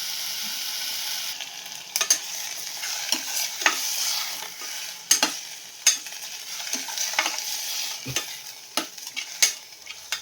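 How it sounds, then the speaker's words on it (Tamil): Cooked mutton sautéed with masala in a pan for Kongunadu white mutton biryani: a steady sizzle broken by repeated sharp scrapes and clinks of a spoon stirring against the pan, close and moderately loud, with no talking. "வேக வச்சு எடுத்திருந்த கறியையும் சேர்த்து நல்லா வதக்கிட்டோம்"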